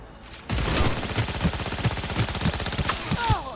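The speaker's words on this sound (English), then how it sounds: "They're opening fire!" Rapid automatic gunfire from enemies in Cyberpunk 2077, a dense, loud burst of repeated shots that starts abruptly and continues steadily for several seconds with little else audible.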